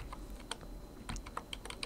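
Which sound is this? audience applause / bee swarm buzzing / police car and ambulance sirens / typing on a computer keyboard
typing on a computer keyboard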